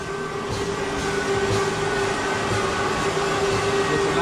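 Electric bicycle hub motors run continuously on lifetime test rigs in an indoor factory laboratory, a steady droning hum with a faint whine that stays level throughout.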